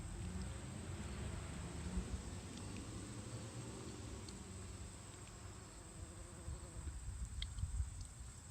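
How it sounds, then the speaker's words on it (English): A bee hovers around begonia flowers outdoors, its faint buzzing sitting within a steady background hiss of insects and ambient noise. "I'm not sure if it's a honeybee or if it's one of those bees that live inside the sides of your house."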